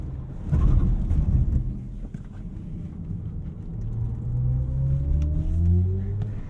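A 2022 BMW i4 M50 electric car accelerates at full throttle with a loud low rumble of road and motor noise, and a rising electric whine climbs steadily in pitch toward the end.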